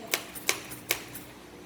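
Three sharp, evenly spaced clacks of keys F and G pressed on a computer keyboard during touch-typing practice, crisp and close with quiet gaps between strikes.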